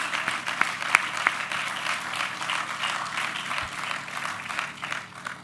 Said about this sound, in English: let me stop and just give them another round of applause.